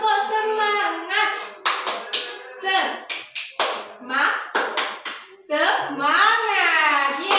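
Schoolchildren in an elementary classroom doing a rhythmic spirit clap, sharp bursts of patterned hand claps alternating with children chanting and calling out in unison, close and lively.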